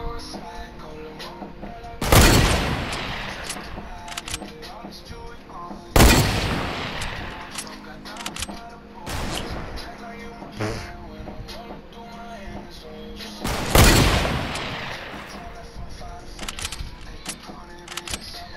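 Video game gunfire cracks out in three loud, sharp bursts spaced several seconds apart, each with a short decaying tail, over a steady background of game ambience and music.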